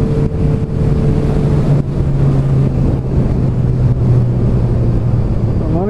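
Steady motor drone of a motorcycle on the move, with a constant engine hum and wind buffeting throughout, rising slightly in pitch near the end.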